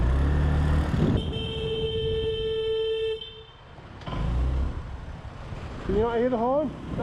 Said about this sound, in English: Can you not hear the horn?